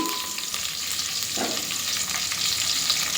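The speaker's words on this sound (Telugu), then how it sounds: "నేను జీలకర్ర ఆవాలు ఉల్లిగడ్డ కొట్టిమిరకాయ అన్నీ వేసుకొని తర్వాత వేసుకుంటున్నాను" Cumin, mustard seeds, onion and green chili fry in hot oil for sambar, giving a close, steady crackling sizzle with a brief stirring scrape midway and no voices.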